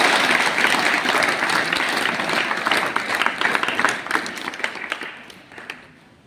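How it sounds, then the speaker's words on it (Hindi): Steady applause from a large group of schoolgirls at an outdoor ceremony honoring self-defense training graduates, dense and continuous before gradually thinning and fading out. "इसलिए मैं चाहूँगा कि सबसे पहले आप लोग अपने लिए तालियां बजाएं।"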